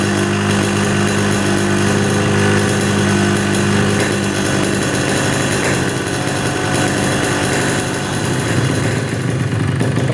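A Yamaha RX King two-stroke motorcycle engine idles at low RPM while its carburetor air screw is set, a steady loud buzzing rumble with a rapid even putter that holds close and constant throughout.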